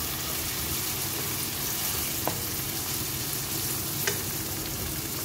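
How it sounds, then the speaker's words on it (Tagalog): Onion and garlic sizzle steadily while being sautéed in a pan for a pancit dish, a continuous frying hiss with two faint utensil taps, close and alone. "ginisa ko na naman ang aking sibuyas hanggang sa mag-brown siya"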